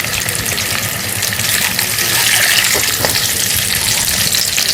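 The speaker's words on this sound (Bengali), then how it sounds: "পেঁয়াজগুলো বেশি লাল লাল করে ভাজার দরকার নেই।" Chopped onions fry and get stirred in a pan, a loud, steady sizzle with scraping stir strokes running throughout, no talking.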